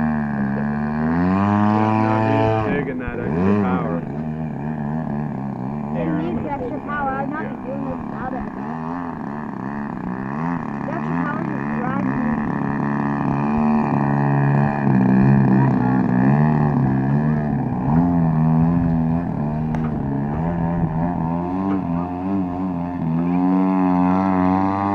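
A radio-controlled 3D aerobatic model airplane engine drones steadily and loudly throughout, its pitch rising and falling as the plane maneuvers, with voices talking over it.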